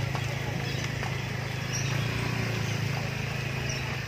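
Horse hooves clip-clopping steadily during a horse ride at Gundaling, Brastagi in North Sumatra, set against a constant low rumble and outdoor noise, with people talking intermittently.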